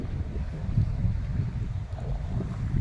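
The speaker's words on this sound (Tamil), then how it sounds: "நல்ல காற்றோட்டம், நல்ல காற்று, நல்ல வெதர், சூப்பராக இருக்குது." Steady sea breeze on a beach, heard as continuous low rumbling wind buffeting the microphone with a faint wash of surf beneath, moderately loud and without voices.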